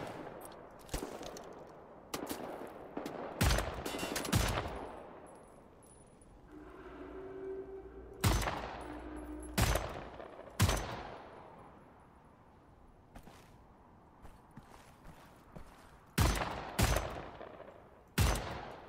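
Gunfire in Wolfenstein: The New Order, a series of sharp, loud shots and short bursts spaced irregularly across a quiet background, with a low hum between volleys.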